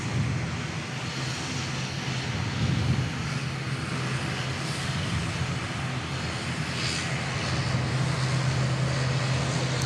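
An Airlink aircraft taxis back into the bay at Perth Airport, giving off a steady low engine hum and broad hiss that stays fairly constant and moderately distant, with no voices.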